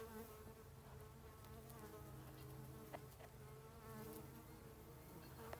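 Many bees drone in a dense, continuous buzz, fairly quiet and unbroken, with no talking.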